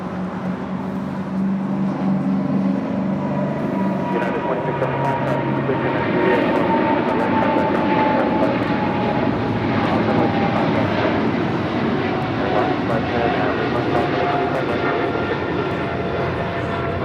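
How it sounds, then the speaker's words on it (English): An Air Tahiti Nui Boeing 787 Dreamliner jet pushes back at the gate, a steady loud engine and ground-equipment roar holding throughout, with occasional faint clicks and distant airport noise. "Got an Air Tahiti Nui Dreamliner now pushing back."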